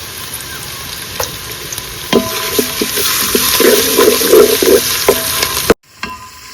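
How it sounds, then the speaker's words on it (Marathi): Ginger-garlic paste frying in a hot Malvani tempering with bay leaf, a steady close sizzle that swells into louder crackling bursts and spatters midway, then cuts off abruptly near the end. "मी अशा प्रकारे आला लसणाची पेस्ट त्याला फोडणीत टाकते, म्हणजे ती बरी भाजली जातात"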